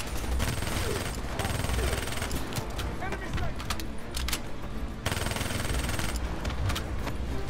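Rapid automatic gunfire in Call of Duty: Black Ops III rattles in dense bursts, with sharp single shots and brief pauses between volleys, loud and close in the game's firefight.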